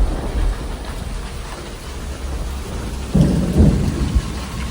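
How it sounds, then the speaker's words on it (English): Real thunder rumbles through a steady outdoor rainstorm, with heavy rain hissing on surfaces throughout and a deeper, louder roll of thunder building near the end. "That's real thunder you're hearing right there."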